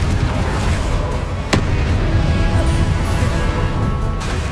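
Spell-casting effects from the Hogwarts Legacy video game, Incendio fire and Confringo blasts, roaring as a dense, continuous crackling rumble with a sharp burst near the middle and another toward the end, loud throughout.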